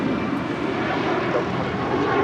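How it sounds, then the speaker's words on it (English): A United Airlines Boeing 737 MAX 9 departing LAX for Chicago O'Hare gives a loud, steady jet roar that holds unbroken throughout, close and with no talk over it. "1069 taking off to Chicago O'Hare on a MAX 9"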